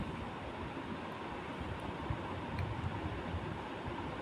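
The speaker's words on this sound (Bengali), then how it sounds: "দেখো জলের ঢেউর অবস্থা" Floodwater waves rush and churn with a constant broadband roar, steady and fairly loud, mixed with windy microphone buffeting and no talking.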